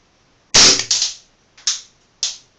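Four sharp pops from a Taurus PT99 CO2 BB pistol, each with the slide snapping back, the first loudest with a brief rattle, then three quicker, fainter shots spaced about half a second apart, close by with no talk.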